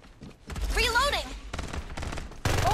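Farlight 84 battle royale gunfire, rapid bursts of shots mixed with a shouting game voice and electronic whirring effects, close and fairly loud.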